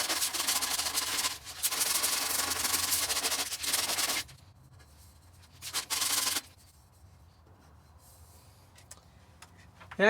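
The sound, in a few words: sandpaper sanding JB Weld ExhaustWeld on exhaust pipe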